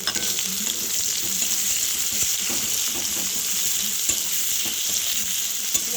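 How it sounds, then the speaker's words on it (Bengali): Chopped onions fry with nigella seeds and garlic in a kadai, a loud, continuous close-up sizzle with soft scrapes as they are stirred. "পেঁয়াজটা দিয়ে আমি ভালো করে রান্না করে নিচ্ছি, নাড়াচাড়া করে নিচ্ছি"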